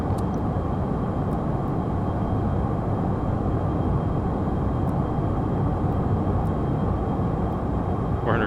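A Challenger 650 business jet accelerates down the runway and lifts off in a flight simulator game, a dense steady engine roar that stays loud and even throughout, with no voices heard.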